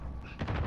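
Several sharp gunshots crack in quick succession during video game combat. A brief lull comes before the burst of fire, which is close and fairly loud.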